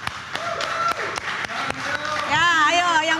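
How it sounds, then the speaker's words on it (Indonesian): Applause from a classical music concert audience, a busy patter of clapping under a loud voice and a held tone that rises and bends near the end. "ya ayo yang mau tepuk tangan boleh silakan"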